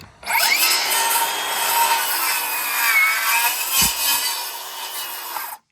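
Metabo and Makita battery-powered saws cutting through a workpiece up close, a loud continuous whining, grinding cut of several seconds that starts and stops abruptly.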